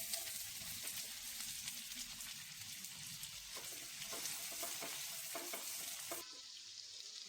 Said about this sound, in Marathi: कांदा आपला फ्राय होतोय